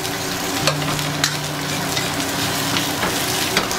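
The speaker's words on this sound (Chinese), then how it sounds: "炒干水分之后呢，加入准备好的香料，把火调小一点，继续的煸炒" Beef and spices stir-fried in a wok over lowered heat: a dense, steady sizzle with occasional spatula scrapes, close and fairly loud, with no voices.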